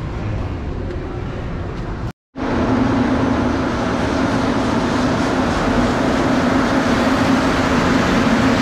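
A loud, continuous rumble of an underground metro train in motion in Montreal, with a steady droning hum and rattling, briefly cutting out before resuming.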